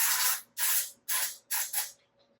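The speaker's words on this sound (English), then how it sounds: "I either dab or spray them very lightly with oil" Four quick bursts of sprayed oil hiss over meatballs, each about half a second long, close and crisp, separated by short gaps, with the last burst split into two puffs before quiet.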